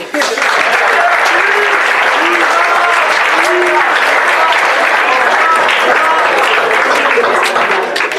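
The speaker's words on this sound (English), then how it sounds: "So a round of applause for Keith." Dense, steady applause from a crowd at a soccer banquet fills the whole stretch, loud and sustained with a few voices mixed in underneath.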